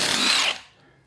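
An impact gun undoing the cylinder head nuts of a Classic Mini gives one short, loud burst of whirring and rattling for about half a second, then quickly dies away.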